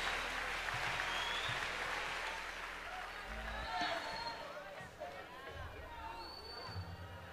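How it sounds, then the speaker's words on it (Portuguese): Church conference crowd applauding in a large hall, a broad wash of clapping mixed with crowd babble and scattered cheers, fairly distant and soft, with voices and a low hum under it. "se é para Jesus, melhor esse aplauso"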